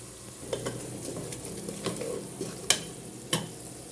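Masala with green chilies sizzles in a pan for chicken biryani, a steady frying hiss broken by a few sharp scraping stirs of a spoon against the pan, close and moderate in level, without talking.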